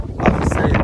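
Wind gusting across a microphone at a riverside eel-fishing spot in Northumberland, a short burst of low, blustery rumble and buffeting, loud and close.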